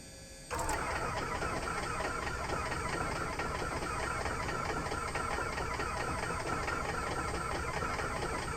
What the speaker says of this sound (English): I think we're just flooding the engine at this point when we go to prime